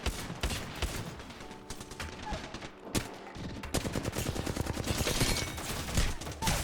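Rapid bursts of gunfire in an Apex Legends match, dense automatic shots crackling loud and close, with a brief lull near the middle before the shooting resumes even heavier.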